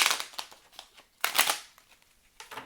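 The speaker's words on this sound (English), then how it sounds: "One more shuffle." Tarot cards shuffled by hand in a few quick riffling bursts separated by short pauses, close and crisp, with no talk over them.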